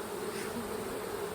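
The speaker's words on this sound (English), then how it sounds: "sound of the bees here just completely changed" Honey bees drone in a hive that is being split and given a new queen, a steady close-up buzzing hum with no voices.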